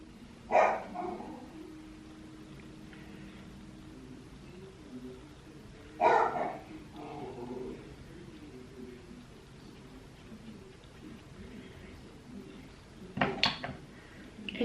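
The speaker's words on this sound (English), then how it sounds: "I think someone is home that he's barking." A pet dog barks indoors in short bursts, a few separate woofs spaced several seconds apart, at moderate distance and fairly faint, with some light clattering in a quiet room.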